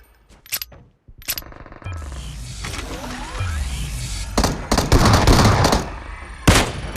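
Gunfire crackles through a battle royale shooter match, with a few sharp shots near the start followed by a denser, rumbling stretch of bursts and blasts, loud and close, with no talking.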